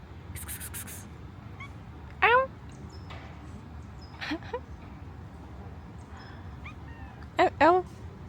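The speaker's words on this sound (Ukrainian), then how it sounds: "Привіт, який ти красивий котик!" Several short cat meows ring out in bursts, moderately close, over a steady low background hum with brief chirps between them.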